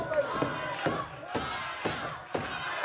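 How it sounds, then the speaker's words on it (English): Wrestling crowd inside Sam's Town Casino arena in Las Vegas chanting in rhythmic bursts of massed voices, roughly every half second, with a commentator's voice speaking over it. "Chance of Rhino from the crowd here inside Sam's Town Casino in Las Vegas, Nevada"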